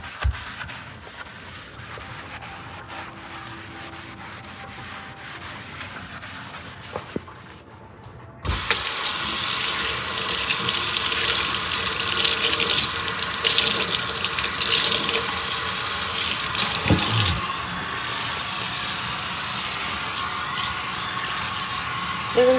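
Water from a tap rinses a soaped bathroom washbasin: faint rubbing and scrubbing at first, then a loud, steady stream of running water splashing into the sink, close by.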